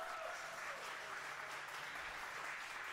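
A crowd at a Midwest Ninja Series finals event for the 8-10 age division applauds the podium finishers, a faint, distant, steady patter of clapping with no voices over it.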